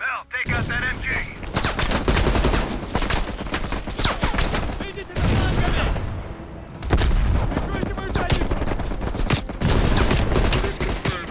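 Heavy machine gun bursts rattle almost continuously in Call of Duty: Black Ops Cold War, loud dense volleys mixed with booming explosions and battle noise, with brief pauses between and game voices talking over the din.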